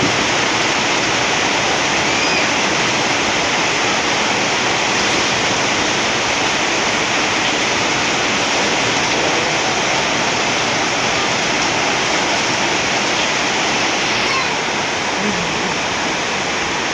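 Steady rain falls at Mahachai, a dense, even hiss that holds without a break, loud and close, with no voices over it.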